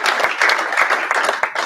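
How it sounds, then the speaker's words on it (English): A round of applause for the sponsors at a Meadowlands event, with loud, close clapping from a gathered crowd, dense and uninterrupted across the short burst. "if we could give a round of applause to them"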